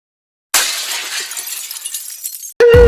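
Glass smashes in slow motion after a moment of silence, a bright shattering burst that trails off into scattered tinkling fragments, followed by an abrupt loud tone at the end.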